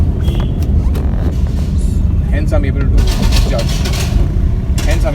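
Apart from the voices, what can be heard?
Tata Nano car engine running in second gear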